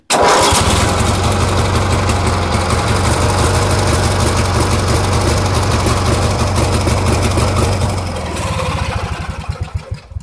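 A small Dynamark twin-cylinder engine runs steadily and loudly with a low, chugging rumble, then its pitch drops as it slows near the end.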